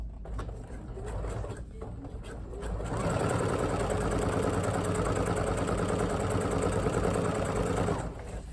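A sewing machine running a long gathering stitch along a side seam, starting with a few short bursts, then a steady close mechanical whir and rapid needle chatter for several seconds before slowing at the end.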